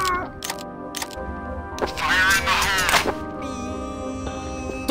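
A person vocally imitates a headshot sound effect for a video game, with short clipped bursts followed by a louder warbling, pitch-wobbling vocal cry and a thin sustained tone, close to the microphone.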